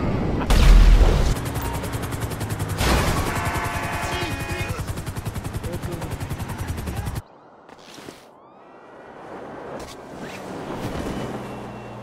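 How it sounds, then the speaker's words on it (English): Gunfire in GTA V Online, bursts of rapid automatic shots and loud booms, close and heavy at first, then thinning into scattered distant shots after a sudden drop in level. "They're shooting at you."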